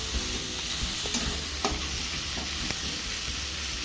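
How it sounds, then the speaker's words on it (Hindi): Onions frying in a hot pan while being stirred, with a constant close sizzle and light, irregular scraping taps from the utensil throughout. "भाजवा तापर प्याज एड करदबा"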